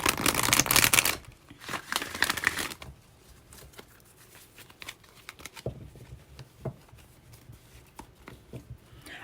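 A burst of brisk tarot card shuffling at the start, followed by quieter scattered taps and riffles of the cards being handled.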